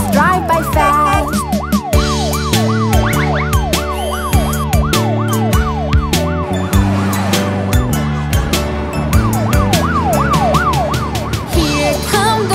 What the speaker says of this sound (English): Hear the sirens shout real loud, let our trucks move past.